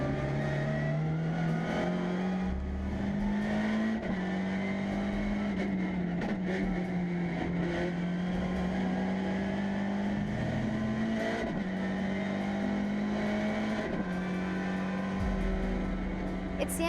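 Car driven around a race track by a BTCC driver coach in a MINI, steady engine drone with a rising and falling tone throughout, speech faintly underneath.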